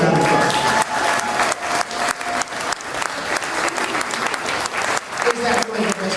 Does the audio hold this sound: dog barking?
no